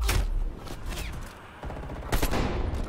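Bursts of rapid gunfire in the shooter game Black Ops Cold War during a Domination match on the Garrison map, loud and close, with sustained volleys broken by brief pauses.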